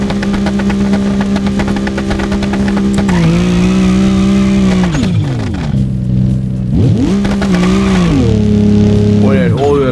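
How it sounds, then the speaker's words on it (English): A modded MK3 Jetta in BeamNG revs hard for an attempted burnout, its loud engine droning, dipping and climbing again in pitch, with someone talking over it. "let's just let's do a burnout"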